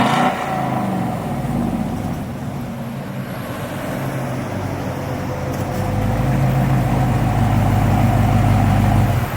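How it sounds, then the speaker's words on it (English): A Whipple-supercharged 2020 Chevy Silverado 1500 RST with 530 wheel horsepower doing a burnout. The engine gives a loud, sustained roar that swells gradually toward the end, heard close and with no talk over it. "I hate doing burnouts, man."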